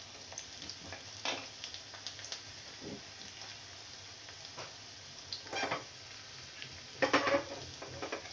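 Chopped garlic sizzles in hot oil as a tempering for potato and spinach curry. Soft continuous frying crackle with occasional louder bursts and faint utensil clinks, close up.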